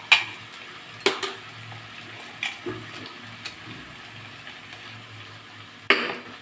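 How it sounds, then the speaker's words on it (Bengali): Egg masala with ginger-garlic paste being fried in a pan, giving a soft steady sizzle broken by a few sharp clinks and scrapes of a utensil stirring against the pan, with no talking. "দিয়ে আর একটু লাল করে ভাজবো"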